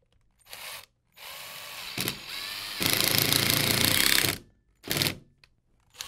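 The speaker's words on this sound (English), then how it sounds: "I'm going to lift it up and prop it up with pieces of wood while I screw it to the wall" A power drill driving screws through a plywood acoustic diffuser panel into a wall, with several short bursts and one long loud whirring run between pauses, close by with no talk.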